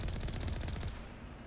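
A quick, fairly loud burst of rapid automatic fire from an AI enemy in Mass Effect, cutting off after about a second.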